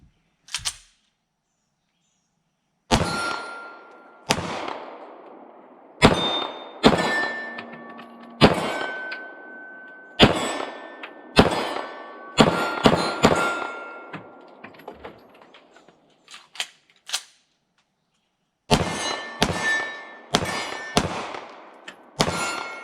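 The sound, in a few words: IWI Jericho 941 pistol gunshots hitting steel targets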